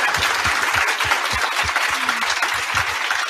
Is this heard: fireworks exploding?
no